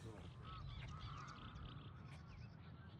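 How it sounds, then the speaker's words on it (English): Ducks honk and quack in the distance in the Netherlands, faint calls scattered over a steady outdoor background. "You can hear the ducks in the background."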